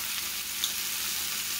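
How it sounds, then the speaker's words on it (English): Steady, loud sizzling of shepherd's pie filling with Worcestershire sauce frying in a hot pan, a continuous crackling hiss with no talking. "Listen to the sizzle on that thing."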